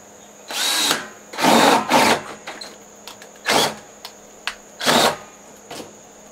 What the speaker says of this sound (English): I'm going to go ahead and run a hole straight through this barrel